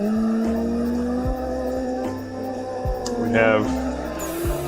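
Tires squeal in long sustained howls as a car drifts at Bihoku Highlands in the Assetto Corsa racing game, the engine note rising and dropping through gear changes while a voice speaks briefly over the game sound.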